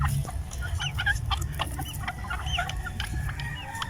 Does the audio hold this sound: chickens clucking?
yes